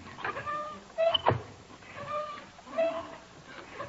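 A cat in a radio comedy scene gives several soft meows spread across a few seconds. A brief creak or thump is mixed in, and the background otherwise stays quiet.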